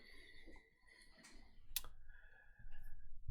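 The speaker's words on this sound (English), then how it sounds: "So I click load" A single sharp mouse click on a load button in Power BI sounds near and crisp, set against low room noise with no talking.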